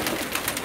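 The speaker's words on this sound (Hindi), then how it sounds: "बहुत ही ज़्यादा तादाद में कबूतर हैं इनके पास।" Soft cooing of pigeons close by, a short burst of murmuring bird calls with no voices.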